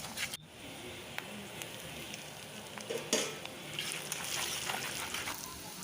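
Turmeric being stirred into a hot pan for lemon rice, a steady sizzle under spoon scrapes and a few sharp clinks against the pan.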